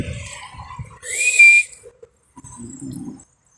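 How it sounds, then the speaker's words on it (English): A person whistles a short rising tone, loud and close, outdoors near a cat, with quiet murmuring talk before and after. "Hopefully I didn't whistle in your ear."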